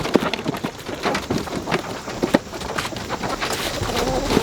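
A flock of more than a hundred chickens let loose onto a garden plot, giving a dense, steady patter of scratching, flapping and clucking all around, with no talk over it.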